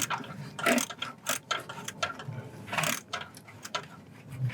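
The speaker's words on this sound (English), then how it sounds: "I have just a quarter drive with my 7mm, 1-inch extension. I'm just loosening the hose clamp onto the basically turbo inlet." Quarter-inch drive ratchet with a 7 mm socket and 1-inch extension loosening a hose clamp on the turbo inlet air intake tube of a Mercedes-Benz C250/SLK250, with a series of close, crisp clicking bursts.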